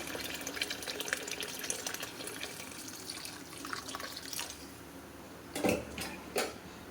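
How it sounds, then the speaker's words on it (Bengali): Hot water poured into a pot of soaked rice with milk, a rushing, splashing stream that eases off, followed by a couple of louder splashes and knocks near the end; no voices. "পরিমাণ মতো দুধ দিয়ে দেবে সাথে পরিমাণ মতো গরম জল"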